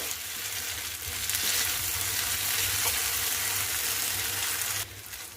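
Fried onions being stirred into spiced masala in a pan for an onion sabji: a loud, close, continuous sizzle with scraping stir strokes, ending in a brief quieter moment.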